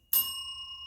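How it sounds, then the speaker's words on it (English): A single bright bell struck once with a sharp attack, its clear metallic tone ringing on and sustaining evenly to the end, close and loud with no talk. "I love me a good bell."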